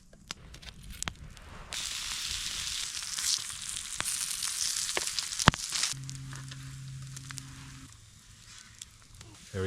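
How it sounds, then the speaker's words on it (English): Spam sizzling and frying in a pan over a campfire at a bushcraft camp, a steady broadband crackle and hiss that swells after a soft start and runs continuously, with a few sharper pops and a low hum near the end. "fried Spam"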